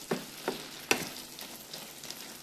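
Hot sauce sizzling as it reduces in a home kitchen pan, a soft steady fry broken by a few sharp clicks of stirring, fairly quiet with no talk.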